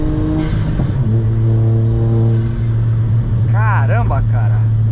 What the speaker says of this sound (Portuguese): A turbina faz mais barulho mesmo.